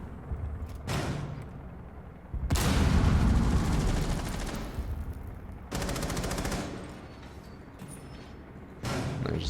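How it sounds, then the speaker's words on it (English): Bursts of gunfire in Rainbow Six Siege come from above, loud sustained automatic volleys in several separate stretches with booming, muffled low-end weight and short gaps between them. "the guy is shooting at him from above."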